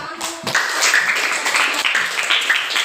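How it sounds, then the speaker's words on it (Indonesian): Classroom students clapping together after a teacher's lesson, a dense, steady patter of many hands close by with voices mixed in throughout. "Oke, tepuk tangan dulu."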